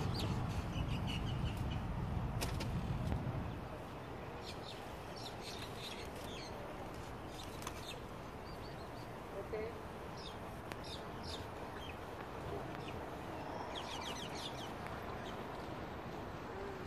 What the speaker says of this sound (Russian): Тут птички гуляют.